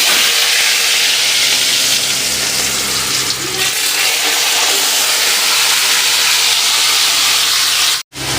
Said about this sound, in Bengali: তেল গরম হয়ে গেছে, এবার আলুগুলো দিয়ে দেবো।